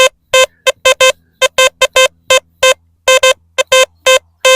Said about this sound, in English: Double beep there.